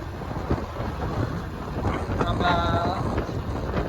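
Wind blows across the open bank of the Bhima river, buffeting the microphone in a continuous rough rumble that swells toward the middle of the clip, with faint higher hiss above it.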